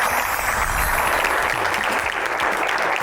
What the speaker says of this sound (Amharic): የተቀሩት 3ቱ ደግሞ በእናንተ ሞቅ ያለ ጭብጨባ ይሸለማሉ ወደ የቦታቸው።